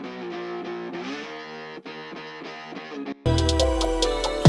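Distorted electric guitars run through a Guitar Rig 5 amp preset and play a chugging, rhythmic melodic pattern. Near the end, a heavier full beat comes in underneath.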